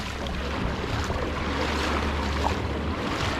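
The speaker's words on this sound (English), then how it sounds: "More waves here, so the water comes up on the shore a lot more" Steady surf washing onto the shore at Cane Garden Bay beach in the British Virgin Islands. A constant broadband wash of breaking waves, close and fairly loud, with wind buffeting the microphone and no talking.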